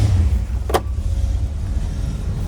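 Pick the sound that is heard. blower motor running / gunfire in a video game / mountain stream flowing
blower motor running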